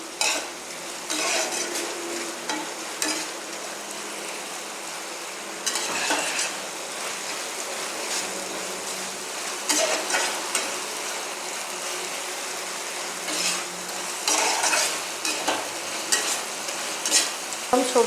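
Vegetables stir-fried with sauce for homemade chow mein, a continuous close sizzle with frequent clattering of a spatula scraping and tossing in the pan, busy and steady throughout without any talking.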